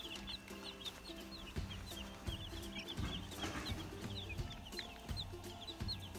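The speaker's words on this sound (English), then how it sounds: "Here's our chicks." Newly arrived chicks cheep in a brooder, many high, quick peeps overlapping in a busy chorus over a low background hum, with no talking.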